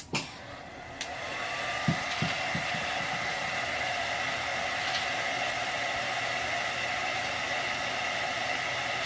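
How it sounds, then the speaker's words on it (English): A steady whirring blower hum with broad hiss from a heat dryer in a clinical pathology clinic runs continuously, a few clicks and taps near the start, otherwise unchanging and fairly loud. "We at our clinic use a heat dryer."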